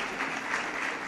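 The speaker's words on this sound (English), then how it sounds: "Let's give them a round of applause." Lecture audience applauding, a steady wash of dense clapping that fills the short moment at moderate loudness with no voices over it.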